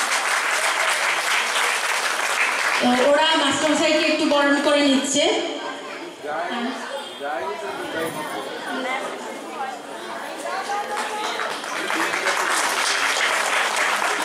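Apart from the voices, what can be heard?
audience clapping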